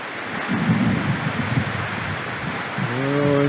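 Steady heavy rain pouring outdoors during a rainy-season storm, a dense continuous hiss with low rumbling thunder rolling underneath, close and loud throughout.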